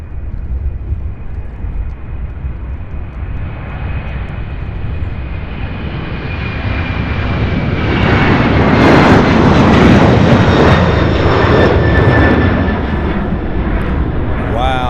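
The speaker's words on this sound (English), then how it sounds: "There's an MD-11 taking off from 35 right." An MD-11 jet airliner takes off from an airport runway, a loud, steady engine roar that swells toward the middle and stays heavy, broad and rumbling throughout with no talk.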